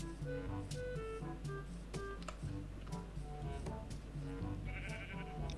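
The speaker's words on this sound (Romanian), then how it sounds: "Altă oaie." Sheep bleat in the Minecraft world of the Twilight Forest mod, a few short nasal calls standing out over steady game music and ambient noise, no one talking.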